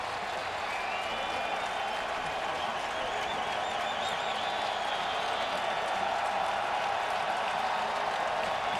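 Oakland A's crowd at a 2012 ALDS Game 5 baseball game cheers in a sustained, even roar of mixed voices and applause, a distant broad wash with no break.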